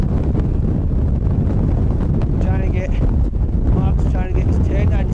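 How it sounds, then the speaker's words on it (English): Strong wind buffets a tent at a snowy winter campsite in Glenshee, roaring loud and constant with gusty rumble across the whole stretch, while people talk over it. "The wind's changed direction."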